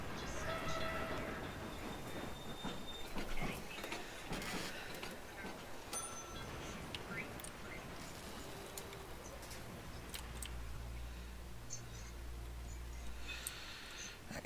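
A steam-era train rumbles steadily in the Railway Empire video game, with a broad mechanical roar and a heavier low drone building in the last few seconds, running continuously beneath intermittent talk.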